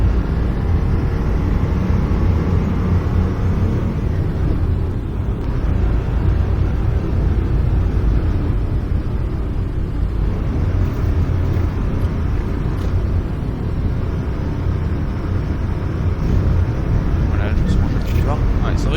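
A Mercedes-Benz Sprinter van cruises in the bus simulator OMSI 2. Its engine gives a continuous, loud, rumbling drone with slight dips in intensity, while someone talks over it.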